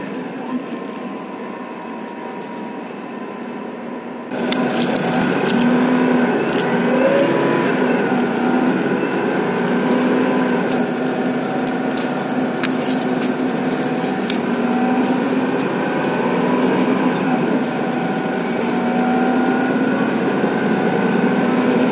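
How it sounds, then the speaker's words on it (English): Riding a local bus toward Modlin train station near Warsaw, Poland: after a quieter start, a loud steady engine drone and road rumble fill the cabin, with scattered rattles and knocks. "we get on a local bus along to Modlin train station"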